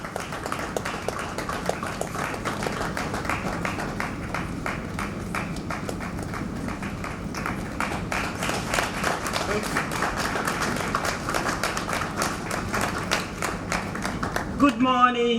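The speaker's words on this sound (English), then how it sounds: "A round of applause for her as she makes it up to the stage. We can keep clapping until she comes up." An audience at a law week opening ceremony applauds steadily with dense, continuous clapping as a speaker walks up to the stage, the applause sustained throughout and swelling slightly toward the end.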